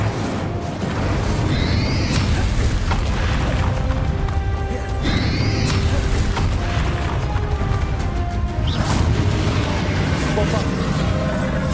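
A fire spell cast at a dragon in a Hogwarts video game, heard as a dense, loud barrage of crashing, booming blasts and whooshes that runs without a break from start to finish.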